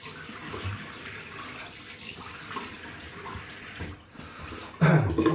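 Safety razor rinsed under a running tap, a soft steady gush of water with faint splashing that gets louder near the end.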